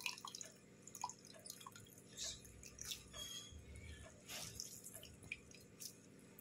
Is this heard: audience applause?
no